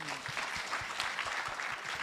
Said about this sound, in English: You clap for her.